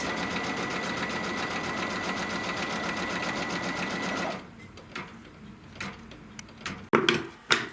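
An embroidery sewing machine runs a steady, loud stitching drone as it sews two straight tack-down lines along the sides of each quilt piece, then stops abruptly, leaving a few faint clicks and knocks.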